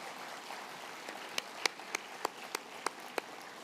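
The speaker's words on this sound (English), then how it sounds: "Let's give them a well-deserved round of applause." Scattered, faint claps from an audience at the 2025 OGP Asia and the Pacific regional meeting, about eight distinct hand claps spaced irregularly over a quiet room hum.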